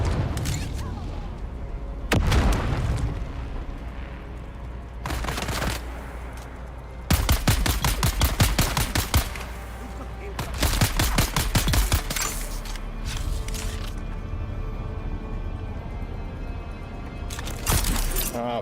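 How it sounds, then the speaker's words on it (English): Grenade blasts and gunfire in Dune: Awakening, several bursts of rapid shots and sharp crashing bangs arriving in clusters over a steady low game hum, loud and close, with a voice speaking briefly. "Throwing grenades."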